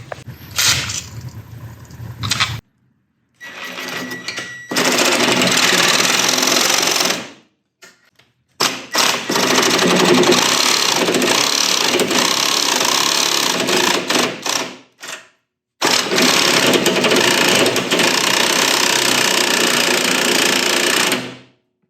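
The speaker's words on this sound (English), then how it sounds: "I have a solution for this pin. It's a carbide tip sawzall blade." A reciprocating saw fitted with a carbide-tipped blade cuts through a metal pin on a Ditch Witch in long, loud, steady buzzing bursts, stopping and restarting several times with short pauses between cuts.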